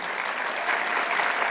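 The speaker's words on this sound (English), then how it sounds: "So, applause to you." A conference audience at a cultural closing celebration breaks into a brief, dense round of applause. The clapping is steady, close and loud throughout the short burst.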